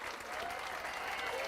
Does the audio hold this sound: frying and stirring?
no